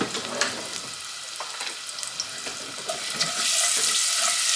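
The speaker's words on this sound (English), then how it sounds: "So while this is heating up here, I'm just going to mix it up" A seasoned mixture with Italian seasoning and pepper heats in a pan for stuffed shells, giving a close, steady sizzle with light scraping stir strokes that swells into a louder hiss at the end.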